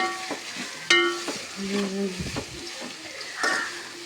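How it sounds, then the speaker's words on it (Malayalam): Chicken with two onions and a handful of shallots sautés in a pan. A spatula scrapes and stirs in irregular strokes over a soft, steady sizzle, with a few sharper clinks against the pan. "അതിലേക്ക് ഒരു രണ്ട് സവാളയും ഒരു പിടി ചെറിയ ഉള്ളിയാണ് ചേർത്തിരിക്കുന്നത് ഇനി അത് നന്നായിട്ട് വഴറ്റി കൊടുക്കും"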